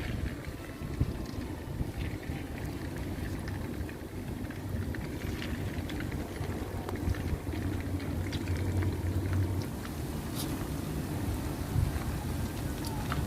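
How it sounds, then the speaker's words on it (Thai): Herb-coated pork pieces deep-fry in a pan of hot oil, a dense and continuous bubbling crackle that stays steady and close throughout with no voices. "เดี๋ยวแม่ลูกจะแบ่งทอดสักครึ่งนึงนะ ถ้าทอดหมดหนึ่งกิโลนี่กินไม่หมดแน่เลย ทอดให้เพื่อน ๆ ได้ดูนะคะ"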